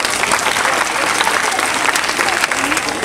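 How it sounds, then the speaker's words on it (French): Schoolchildren in a classroom applaud a classmate, a brief loud burst of dense, even clapping with faint voices underneath. "Applaudissez-le."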